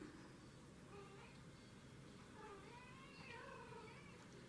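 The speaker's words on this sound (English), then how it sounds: "the cats just wanted to be let out, and now they're crying to come back in" Cats meow faintly from outside a door, crying to be let back in, with a few drawn-out calls under a steady low background hiss.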